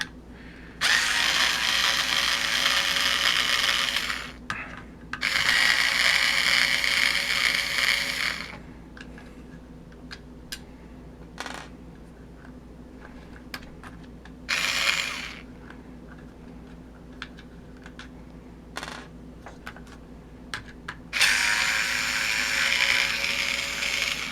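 A power driver backing out the servo horn screws on a Nikko Brat toy-grade RC car, several loud whirring bursts of a few seconds each separated by quiet gaps with small clicks and handling sounds.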